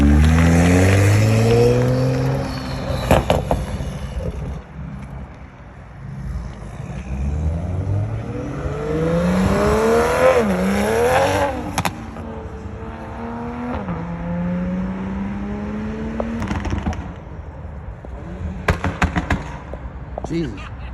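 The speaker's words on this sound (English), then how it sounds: "So the exhaust is done, and this is a warm start." 2020 Toyota Supra with a catless downpipe on a warm start, its exhaust revving repeatedly with rising and falling engine tones, loud and close, with sharp pops and crackles and people talking in between.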